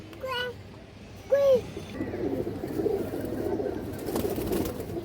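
A pigeon coos a few times close by in a loft of fancy breed pigeons, short rolling calls over a quiet background with soft rustling afterward.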